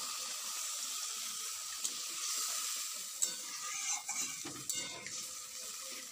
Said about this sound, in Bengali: মশলাটা ভাজা ভাজা হয়ে গেছে এবার আমি জল দিয়ে দেবো